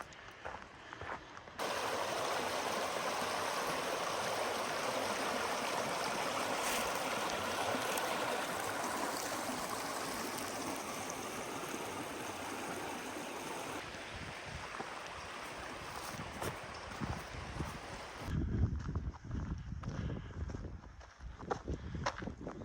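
Water rushes and babbles steadily in a nearby stream, a dense continuous flow, with some rustling and footstep-like knocks near the end.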